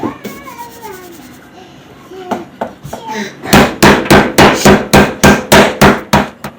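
A meat mallet pounds steak for country fried steak in a quick, even run of about a dozen loud, close thuds, after softer handling sounds and a voice in the background.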